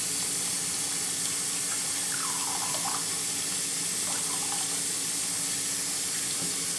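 Tap water runs steadily into a bucket for a bleach cleaning solution, a constant close hiss and splash with no voices.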